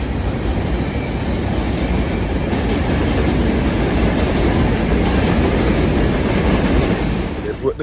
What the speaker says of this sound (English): It's a little train going by.